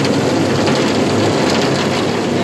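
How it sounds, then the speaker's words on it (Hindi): Heavy rain pours down in Karachi as a steady, dense, loud hiss that continues unbroken throughout, with no voices. "बारिश आज माशाल्लाह तेज बारिश के साथ देखिए कितने बस बारिश हो रही कराची के अंदर"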